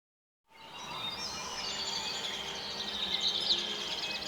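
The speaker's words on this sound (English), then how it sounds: "The rays of sun, the birds chirping, the beautiful scenery" Birds chirping in a sunlit forest in Fantasian Neo Dimension: after a moment of silence, a soft wash of ambience rises with faint, high twittering calls scattered through it, gentle and without voices.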